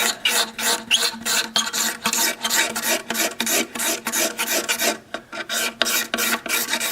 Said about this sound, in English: And then I'm just going to take and scrape it like this.